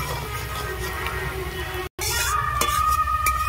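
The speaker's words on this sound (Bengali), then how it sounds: "পেঁয়াজটা আমি ভালো করে লাল লাল করে ভেজে নেব।" Onions frying in reused fish-frying oil for a Bengali tel koi curry, a steady sizzle with scraping stirring strokes and a few clinks of a spatula against the pan, briefly cut silent midway.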